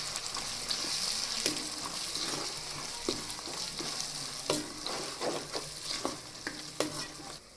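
Ground cumin, garam masala, salt and red chili powder are stirred into a Kathiyawadi-style varaliyu tempering in a pan, giving a soft sizzle under repeated scraping strokes of the spoon, close and moderately quiet.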